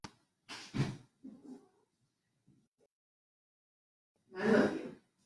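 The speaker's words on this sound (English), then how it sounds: "I realize that our cat, I think, is locked in the basement, so that's why she's meowing" A cat locked in a basement meows a few times, short plaintive calls separated by silence, the last one the loudest.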